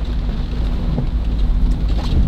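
Heavy rain pours steadily, a dense broadband hiss with low rumbling underneath, no voices.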